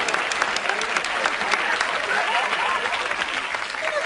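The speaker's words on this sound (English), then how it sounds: "How about some applause?" An audience breaks into steady, dense applause, a close crackle of many hands clapping without pause for several seconds, with a little crowd noise mixed in.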